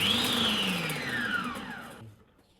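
A homemade chestnut-peeler attachment on a food processor runs its motor alone, a steady close whir with a falling pitch as it winds down, then cuts out near the end.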